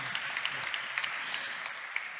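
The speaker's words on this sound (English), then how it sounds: "A warm round of applause to these two good speakers and also to the lovely two ladies who joined us online." Conference audience applauding speakers in a hall, a steady dense patter of many hands clapping at moderate distance, brief and unbroken with no talk.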